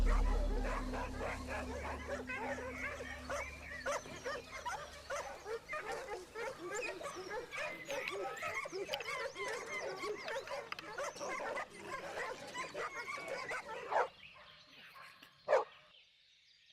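Hunting dogs bark and yelp in a dense, overlapping chorus during a wild boar hunt. The barking is steady at moderate distance and fades near the end, leaving a few isolated sharp sounds.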